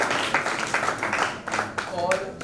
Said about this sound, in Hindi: सभी लोग तालियों से उनका स्वागत करें